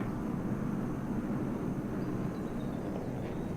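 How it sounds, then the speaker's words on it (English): A jet airplane flies high overhead in Microsoft Flight Simulator 2024, a faint, distant, continuous low rumble that stays even throughout. "It's a jet way up there."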